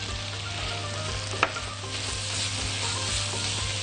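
Colored bell peppers and diced tomatoes sizzle in a hot frying pan for a savory meat pie filling, a steady close frying hiss with a brief stirring clack.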